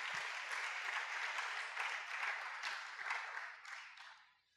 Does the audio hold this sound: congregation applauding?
yes